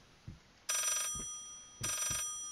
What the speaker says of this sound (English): the phone's ringing the right way, but it's downstairs